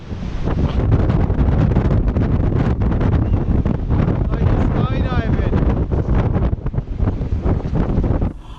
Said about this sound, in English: You literally got swept off your feet by the wind.